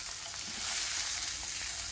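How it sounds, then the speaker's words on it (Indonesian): Shallots, garlic and boiled peanuts sautéing in a pan give a steady, even sizzle with faint stirring scrapes, close and continuous, with no talking. "Ini ditumis dulu, bawang merah dan bawang putihnya."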